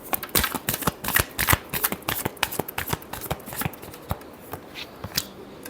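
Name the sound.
shuffling cards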